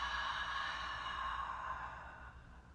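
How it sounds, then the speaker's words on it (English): A slow, audible pranayama exhale through parted lips, a steady breathy rush that fades gradually over a few seconds, close and alone. "Part the lips and slowly exhale out through the mouth."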